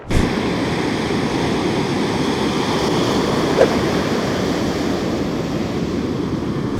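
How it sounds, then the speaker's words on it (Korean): Ocean surf at Venice Beach with fairly high waves rolls in as a steady, loud wash of breaking water and wind, continuous throughout with no talk. "파도가 조금 많이 파고가 좀 높아졌네요."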